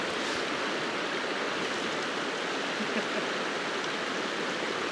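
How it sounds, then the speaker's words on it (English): A river at a tricky crossing in the wild Scottish winter hills rushes in a dense, continuous wash of flowing water, close and loud, with no voices. "we've got this tricky river crossing"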